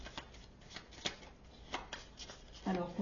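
Astrology oracle cards shuffled by hand, a soft papery riffle in several quick bursts that ends in a louder flurry, close and quiet, with no one talking.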